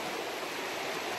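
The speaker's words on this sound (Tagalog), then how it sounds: "The waterfalls." A waterfall at a Philippine campsite roars in a constant, full wash of falling water, close and loud, steady throughout without talk.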